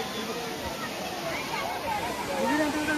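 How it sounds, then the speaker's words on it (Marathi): Water rushing down a mountainside near a hill temple makes a steady, dense roar throughout, with a voice talking over it. "या डोंगरावरून पाणी वाहते"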